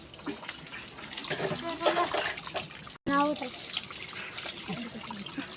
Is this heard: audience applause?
no